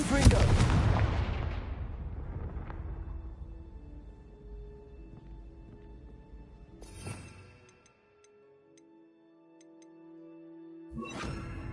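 A Confringo spell blasts in Hogwarts Legacy: a loud, broadband explosive burst at the start that decays over several seconds, then a second sharp blast near seven seconds and a third at the very end, with no talking.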